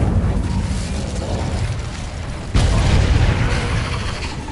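A fire spell cast in the video game Hogwarts Legacy: a loud, dense roaring burst that swells and stays thick, with a sharper whooshing surge partway through.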